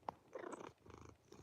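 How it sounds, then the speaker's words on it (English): A cat purrs softly and close, a faint brief rumble in short irregular bursts. "You hear her purring?"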